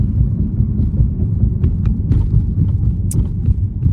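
Inside a moving car, a loud low road rumble throbs steadily with faint ticks and knocks over it and no talking.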